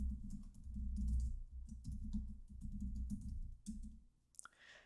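Computer keyboard typing as Heroku login credentials are entered, a quick run of soft, close keystrokes with brief pauses, ending in a sharper key press.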